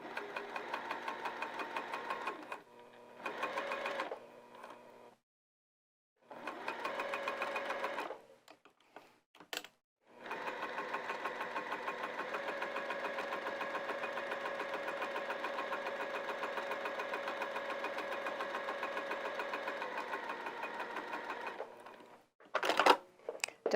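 A domestic sewing machine bastes around the outer edge of a layered heart-shaped potholder, its rapid even stitching buzz running in short bursts before one long continuous run, then stopping with a few clicks.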